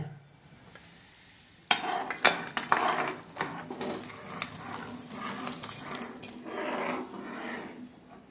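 Spoon scraping and stirring as flour is mixed into boiling water in a pot, soft clinks and bubbling, starting abruptly and continuing steadily at close range.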